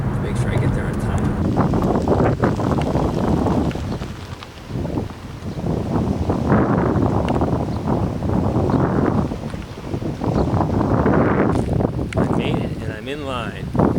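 Gusting wind buffets the microphone at a car ferry terminal, a loud rumbling roar that swells and eases over several seconds, with a person talking through parts of it.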